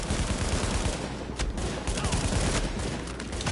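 Rapid automatic gunfire from the video game Tom Clancy's The Division, dense overlapping bursts filling the whole stretch with loud, continuous crackle.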